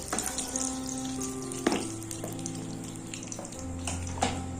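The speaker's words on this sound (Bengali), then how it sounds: "ঠিক এইভাবে করে ভেজে নিতে হবে, দেখে নিশ্চয়ই বুঝতেই পারছেন। একটু ডিপ করে ভেজেছি যাতে করে এর কালারটা লাল লাল হয়" Eggs deep-frying in mustard oil for an egg korma make a continuous, close, even sizzle with faint crackles throughout and no one speaking.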